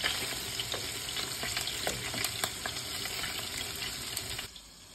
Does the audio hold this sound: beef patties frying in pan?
yes